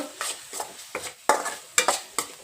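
Broccoli sautéed with chili powder and garam masala over a low flame, a spoon stirring and scraping the pan in repeated strokes with a faint sizzle underneath, close and fairly quiet with no talking.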